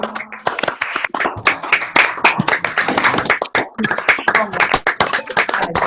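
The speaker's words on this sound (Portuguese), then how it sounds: "através de muitas palmas bem sonoras para a nossa querida Eliana, que nos brindou nessa noite" Audience clapping after a talk on safe adoption, with distinct, sharp hand claps from a modest group that come close and uneven, forming a lively patter with brief dips but no clear speech.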